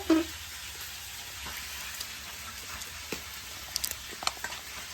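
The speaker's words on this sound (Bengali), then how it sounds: "দেখতেই পাচ্ছ রুই মাছের মাথাগুলোকে ভেজে নেওয়া হচ্ছে" Rohu fish heads fry in a pan, giving a faint, steady sizzle with scattered light pops and crackles, heard alone without talk.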